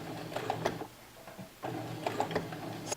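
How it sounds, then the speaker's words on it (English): A sewing machine fitted with a stitch-in-the-ditch presser foot stitches slowly through fabric, running in two short mechanical bursts with a quiet pause between them, close and fairly soft. "So I'm going to really slowly go ahead and start stitching."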